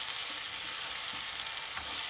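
Carrot, onion and noodles being stir-fried in a canteen pan: a loud, continuous close-up sizzle and hiss with faint scraping of stirring underneath, no talk.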